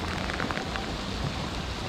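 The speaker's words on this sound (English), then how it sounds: "You can see this kind of rain we're fishing in here." Heavy rain falls steadily during a sheepshead fishing trip, a dense, even hiss of drops on surfaces close around, loud and continuous with no voices.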